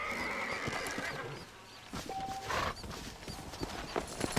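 A horse in Red Dead Redemption whinnies loudly, close up, over the clip-clop of hooves, with gunfire-like game sound effects around it and no talking.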